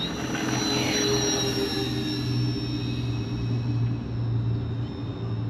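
A FlightLine OV10 Bronco RC model plane flies, its twin electric motors giving a steady droning whine with a faint pitch glide. The hum holds fairly loud throughout against a low background rumble.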